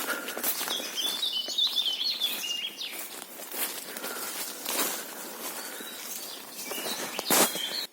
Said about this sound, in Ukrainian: Це не дарма тут пташки мені наспівували